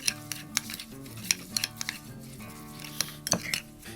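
A spoon stirs a rosemary and kosher salt seasoning rub in a bowl, giving soft scraping and irregular light clinks against the dish, close and fairly quiet.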